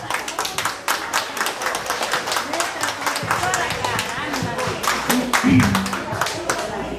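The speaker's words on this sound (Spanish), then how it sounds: "A ver, fuertes los aplausos." An audience at a Mother's Day tribute in Chiclayo claps steadily, a crowd of hands sounding close and sustained, with voices mixed in beneath the applause.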